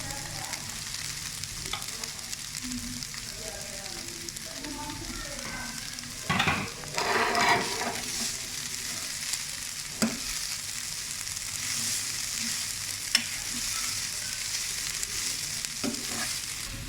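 Onion and cabbage roasting in a pan with very little oil give a steady, close sizzle, broken by louder scraping stirs around the middle and a few sharp clinks.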